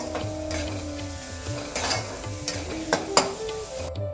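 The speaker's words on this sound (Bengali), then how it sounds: "ভেজে রাখা আলু দিয়ে দেবো আলুর সাথে মশলা ভালো করে মিশিয়ে নেব" Fried potatoes being stirred into spices in a pan, a spatula scraping and tossing over a low sizzle, with a few sharper knocks near the end, close and without talk.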